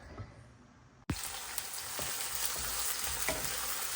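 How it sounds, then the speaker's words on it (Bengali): Onion, garlic and green chili hit a hot pan with a sudden loud burst, then settle into a continuous close sizzle and crackle with occasional pops. Before the burst there is only a faint hiss. "এখানে পেঁয়াজ, রসুন আর কাঁচা মরিচটাকে ভেজে নিচ্ছি আমি"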